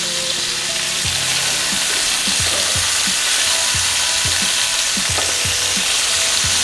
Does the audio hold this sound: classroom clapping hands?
no